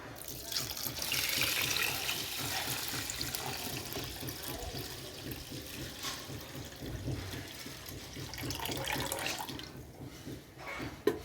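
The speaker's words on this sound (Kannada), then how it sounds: "ಈಗ ಇದಕ್ಕೆ ನೀರು ಬಸೋಣ." Water runs into a vessel of soaked rice for idli batter, a steady close splashing pour lasting most of the stretch, easing off near the end.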